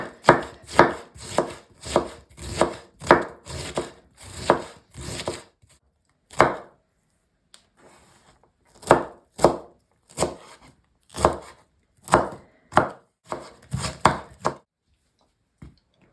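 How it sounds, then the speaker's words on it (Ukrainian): A knife finely shreds 400 grams of cabbage on a cutting board for meat patties, crisp close chopping strokes in quick rhythmic bursts, separated by a brief pause before the cutting resumes. "Нам потрібно 400 грам капусти. І дрібненько нарізаємо."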